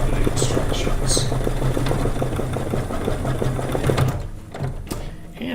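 A sewing machine stitches a quilt section, its needle hammering in a fast, even mechanical rhythm for several seconds before slowing and stopping, close-up and steady, with a voice heard faintly.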